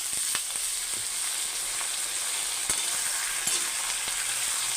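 Chicken and potato pieces sizzle in oil with lightly browned chopped onions for a Madras masala chicken curry. A steady, close frying hiss runs throughout, broken by a few sharp clicks and taps.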